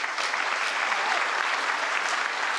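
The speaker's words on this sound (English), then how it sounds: "Another big round of applause for Paige." Conference audience clapping for a speaker at a monitoring tech event, a dense, even burst of applause from a sizable crowd filling the room, with faint voices underneath.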